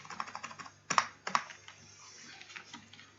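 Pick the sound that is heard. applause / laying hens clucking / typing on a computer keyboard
typing on a computer keyboard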